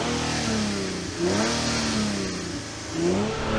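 A Nissan Z sports car engine revs repeatedly, heard close at the front intake, the pitch swelling up and easing down several times over a rough, noisy intake roar.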